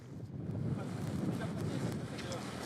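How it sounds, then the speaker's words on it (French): Wind buffets a microphone at the Erquy fish auction harbour, a low, blustery rumble that stays close and fairly steady throughout the short stretch. "Je ne sais pas si vous m'entendez, il y a du vent."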